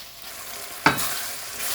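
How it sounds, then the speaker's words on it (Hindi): Kaleji and gurde with black pepper cooking in a pan on high heat, a steady sizzle with one sharp stirring scrape midway, close and fairly quiet with no voices. "तेज़ आंच पे इसको मैं 1 मिनट के लिए इसको पकाऊंगा।"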